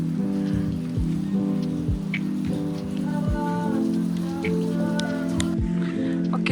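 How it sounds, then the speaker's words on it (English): Rain falling in the mountains of Himachal Pradesh during the rainy season, a steady close patter on surfaces with occasional heavier drips punctuating the continuous wash, over a low steady hum. "It's raining now."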